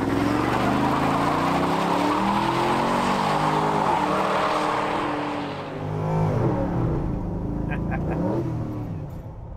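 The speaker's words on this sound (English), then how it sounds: "One totally unnecessary and copious burnout" A restored and modified Chevy pickup truck does a long, loud burnout, its engine roaring steadily under continuous tire squeal and rushing noise that eases slightly near the end.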